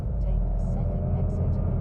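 A Mercedes CLA EV plays its synthetic Roaring Pulse drive sound, an AMG-style tone heard as a deep, steady rumbling hum inside the car, with faint high tones flickering over it.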